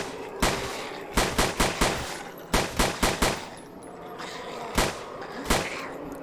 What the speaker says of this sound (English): Especially with me spamming the trigger like that